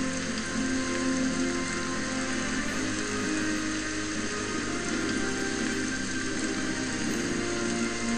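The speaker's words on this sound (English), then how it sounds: "it's raining in Balmora" Steady rain falling in the town of Balmora in the video game Morrowind, a continuous even hiss of drops with a faint underlying hum, unbroken and without speech.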